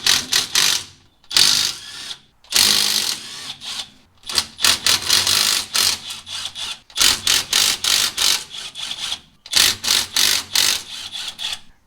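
A ratchet loosens 13 mm rear differential cover bolts on a 2015 Ram truck, producing rapid clicking bursts in repeated close, loud runs with brief pauses between them.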